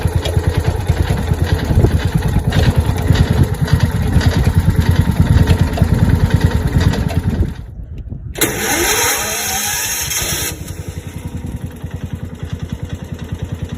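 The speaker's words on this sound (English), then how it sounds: "Got a bit of a pop through the muffler." A Kawasaki FE290 small engine runs slightly lean with a loose old belt, chugging loudly and steadily with pops through the muffler; it briefly drops out midway before picking up again.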